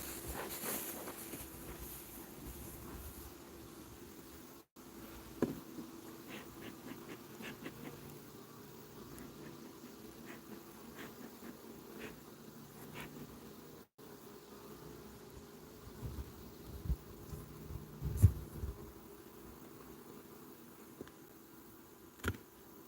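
Honeybees humming inside an opened hive, a steady low drone of many insects close by with a few brief knocks and rustles over it.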